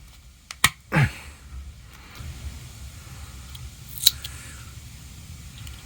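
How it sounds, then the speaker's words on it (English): Tape is cut and pressed onto gearbox speed sensors: a few quick, sharp snips and a short tearing rasp near the start, then faint handling noise and one more crisp click, close and quiet. "I want to put a little bit of tape"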